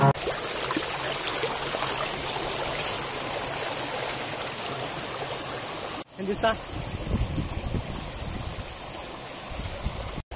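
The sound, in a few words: water flowing through a breached field channel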